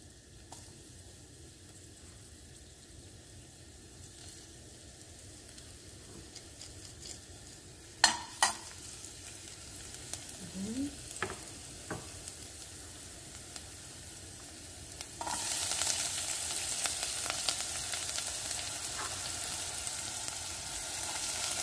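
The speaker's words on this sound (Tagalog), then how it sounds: "Gisa-gisa lang." Onion sautéing in hot olive oil in a home kitchen, a soft steady sizzle with occasional stirring clinks and scrapes, growing louder near the end.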